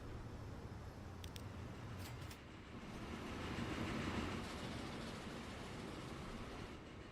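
Train running in the simulation game Transport Fever 2, a steady rolling rumble with faint rail clatter continuing throughout, moderately loud with no talk over it.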